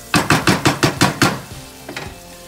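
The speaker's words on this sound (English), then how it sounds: "give it a quick saute" Spices with red chili sauté in a pan for chicken pulao, a quick series of about seven loud rhythmic scraping stirs and sizzles, then a few fainter clinks at the end.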